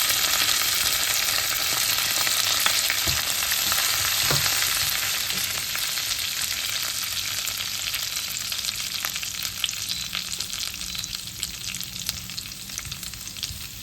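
Onions sizzle in a hot pan for a Sri Lankan banana blossom dish, a loud, constant hiss and crackle with a few soft clicks from stirring.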